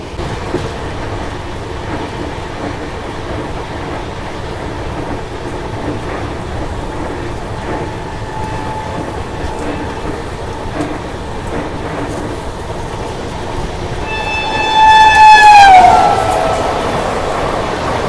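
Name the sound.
Bharat Gaurav tourist train passing alongside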